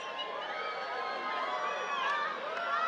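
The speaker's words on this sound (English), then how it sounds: "Crowd's getting excited." An excited crowd builds during an April 2024 total solar eclipse as the last sliver of sun disappears, a steady wash of many voices cheering and chattering with scattered higher shouts over three seconds.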